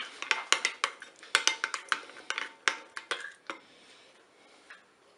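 A utensil stirs rice, chorizo and beans in a Cookeo pot, making a quick series of clinks and scrapes against the metal bowl that thin out and fade, with no talking.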